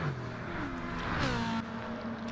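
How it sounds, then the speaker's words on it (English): A race car engine in a video game race drones and revs at high pitch through a tunnel, rising then settling, loud and steady for a couple of seconds. "Love the engine sounds coming through the tunnel."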